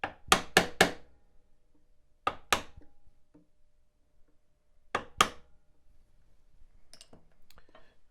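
A chisel struck with a mallet while chopping out waste between dovetail pins in wood: sharp knocks in quick pairs and triplets with pauses between, close and crisp, then lighter taps.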